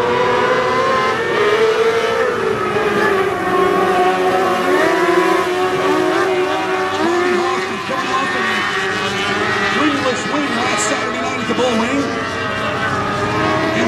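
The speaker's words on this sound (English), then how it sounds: "Third and final heat race for the mini sprints." Mini sprint cars racing in a heat race at Bubba Raceway Park, a pack of high-revving engines droning and wavering together at steady loudness as the field circles the track.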